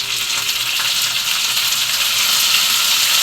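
Chopped tomatoes hit a pan of sautéed shallots and set off a loud, hissing sizzle of frying that holds steady and close throughout, with no talking over it.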